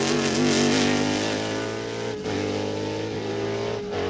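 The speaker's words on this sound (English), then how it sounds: "Big, booming 5-liter Lozano Brothers Ford V8 chasing that high-revving Ferrari V12" A booming 5-liter Ford V8 and a high-revving Ferrari V12 race car roar past at Sebring during a 1999 American Le Mans Series race, a loud continuous engine drone with brief dips as gears shift.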